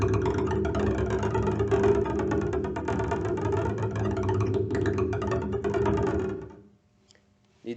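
Rapid bouncing strokes from the tip of a bow on the two lowest strings of a double bass give a dense, rattling low buzz that runs steadily for about six seconds, then stops.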